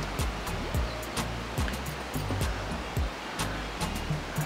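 Creek flowing below a hillside cabin in the Mindo cloud forest, Ecuador, a steady broadband rush of water with small recurring swells, heard from above at moderate distance, with no talking.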